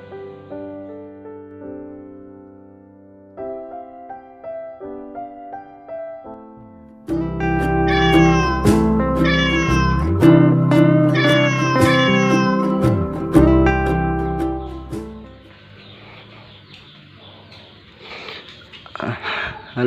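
A young kitten recovering from an eye infection meows repeatedly, close and loud, first in short separate cries, then in a dense run of strained, wavering meows before trailing off into rustling and breathy noise.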